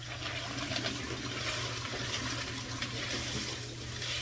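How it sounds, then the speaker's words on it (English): Water runs steadily and gushes at close range into a bucket, rinsing periwinkles in a colander, a continuous splashing rush with no voices. "I'm just gonna fill it up, and I'm gonna rinse it in this colander here"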